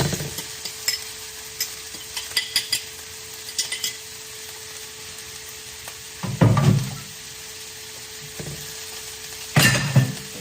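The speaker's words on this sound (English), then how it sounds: "I'm gonna dump in the fish." Already-cooked fish tipped into a hot pot of spices, with a low steady sizzle and scattered scrapes and clinks of a utensil stirring against the pot, a few louder stirring bursts.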